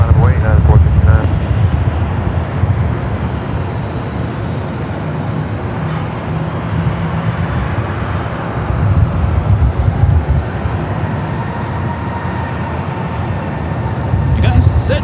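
Continuous broadband roar of airliner jet engines at Los Angeles LAX airport, loud and steady throughout, rising slightly at the start and end, with an Air Tahiti Nui flight from Paris among the traffic.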